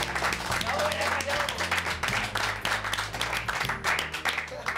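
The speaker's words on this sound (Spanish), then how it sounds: "démosle un aplauso cariñoso a las mamás" A television studio audience applauds warmly for the mothers on a dating show, steady massed clapping over background music with a voice talking along.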